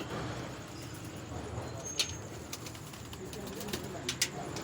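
Purebred red-eyed pigeons kept in a rooftop cage loft, with soft cooing under ongoing outdoor background noise, plus a few brief sharper sounds near the birds.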